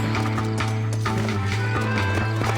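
A horse gallops in the Red Dead Redemption video game, its hooves clip-clopping in a fast steady rhythm, loud and close under a constant low droning hum, with a neigh mixed in.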